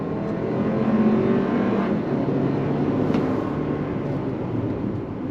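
A 2025 Toyota Highlander XSE midsize SUV with an 8-speed transmission accelerating on throttle, its engine a steady loud drone heard from inside the cabin for the whole stretch, without speech.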